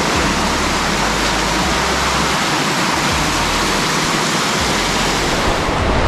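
The golden waterfall at Capitolio, Minas Gerais, Brazil roars loud and close in a steady broadband rush of falling water, continuous and unbroken with no voices over it.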